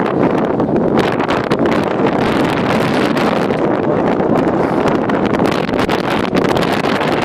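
Wind at a campsite near the top of a valley, loud continuous buffeting and rumbling against the microphone with gusty fluctuations throughout, no talk.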